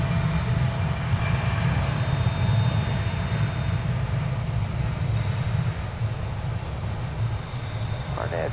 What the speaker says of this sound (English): Arriving from Colorado Springs is American Flight 782,